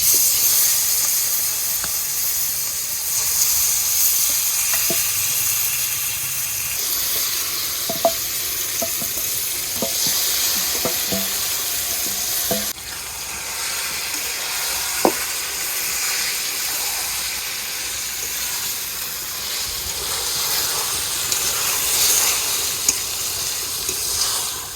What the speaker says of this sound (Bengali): কড়াই হিট হয়ে গিয়েছে, চিকেনের টুকরাগুলো এবার দিয়ে দেবো।